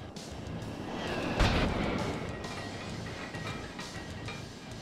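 Jet firing rockets in the video game Scrap Mechanic, a dense roaring rumble of explosions with a sharp loud blast early on, followed by sustained booming turbulence.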